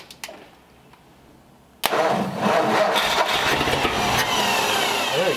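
An engine running on a 6-volt battery cranks with a few brief clicks, then catches and settles into a loud, steady run up close.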